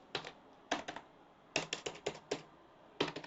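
Bursts of close keyboard typing while HTML code is written on a computer, with quick clusters of keystrokes separated by short pauses, clear and alone.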